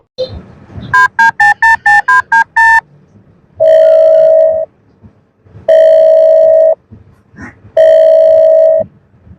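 A mobile phone is dialed with a quick run of about eight electronic key tones, followed by three long, loud ringback tones separated by short pauses, in a cartoon comedy scene at a shop.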